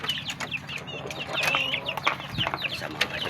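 Young gamecock stags cluck and chatter close by in a busy, irregular stream of short calls over a low background hum.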